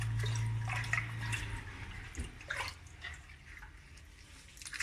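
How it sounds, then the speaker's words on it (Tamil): Freshly picked holy basil (tulsi) leaves rinsed and squeezed by hand in water, giving soft, faint splashes, swishes and drips close by with no talking. "நல்லா அலசி கையாலே ஒரு கசக்கி வச்சுக்கலாம்."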